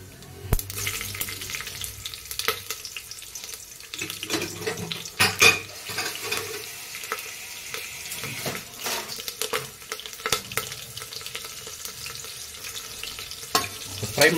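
Whole spices, bay leaf, fennel and green chillies frying in oil for a mushroom biryani, a continuous moderate sizzle with scattered sharp crackles and pops and a few scraping stirs.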